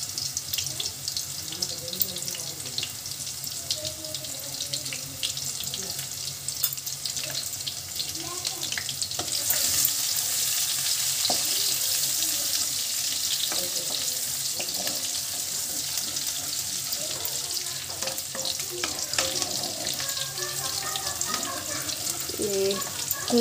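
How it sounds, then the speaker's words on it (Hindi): Onion and cumin sizzling in hot oil in a kadhai, a steady broad hiss that swells partway through, with occasional clinks of utensils. "ये हो गई कढ़ाई, इसमें ऑनियन डाल देते हैं"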